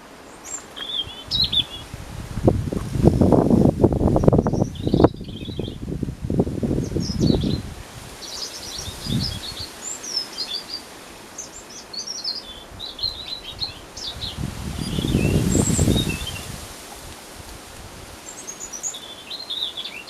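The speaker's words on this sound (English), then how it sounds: "Listen to the happiness of this little bird." A small bird chirps in scattered, high, quick notes through the background while nearby rustling and brushing noises come and go in loud bursts.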